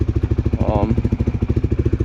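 A CFMOTO 300SS motorcycle with its exhaust running, giving a steady, rapid low-pitched engine pulse that stays loud and close throughout, with a brief rising tone partway through.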